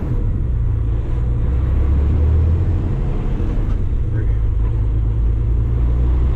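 A 2025 Kenworth T880 truck with a manual transmission gives a steady, loud, close diesel rumble that holds deep and even throughout, with no distinct gear change standing out.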